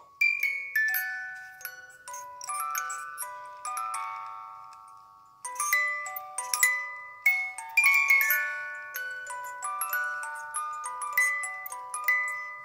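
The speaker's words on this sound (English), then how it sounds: "It's basically a music box, okay?" A hand-cranked music box plays a tune as a clear, tinkling metallic melody with plucked bell-like notes. The tune pauses briefly and then restarts, with no voices over it.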